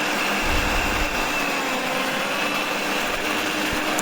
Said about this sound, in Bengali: এখন আমি ব্লেন্ড করে নিচ্ছি